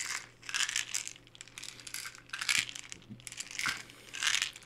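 Pills rattle and clatter inside a bottle in several shaken bursts, close up and fairly quiet.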